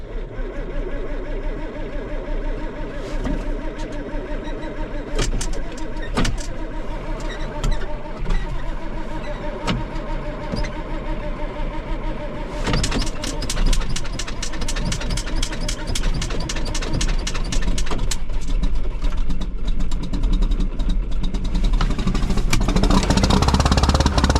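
An old 1983 John Deere 4240s diesel tractor engine cranks and catches after winter storage, settling into a rough clattering idle that grows louder and more rapid as it revs up nearby.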